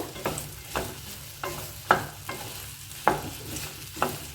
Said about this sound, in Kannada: ಚೆನ್ನಾಗಿ ಸ್ಮೂತ್ ಆಗುತ್ತಲ್ಲ ಅಲ್ಲಿವರೆಗೆ ನಾವು ಚೆನ್ನಾಗಿ ಫ್ರೈ ಮಾಡ್ಕೋಬೇಕು